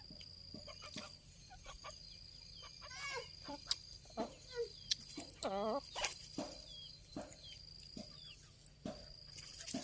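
Chickens cluck softly in short, scattered calls at a rural spot, heard moderately near over a quiet background with a steady high insect drone.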